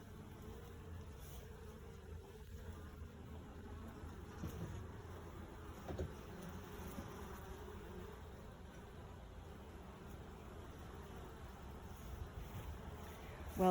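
Bees at a backyard beehive give a soft, continuous low hum and buzz that stays faint and even throughout, with no talking over it.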